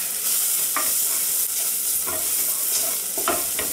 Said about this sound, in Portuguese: Vamos misturar. Vamos deixar torrar um pouquinho.